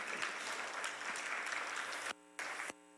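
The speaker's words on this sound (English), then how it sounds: "can you all give our panelists a round of applause" Dense applause from an audience fills the room with continuous clapping, then cuts off abruptly into a brief electronic tone.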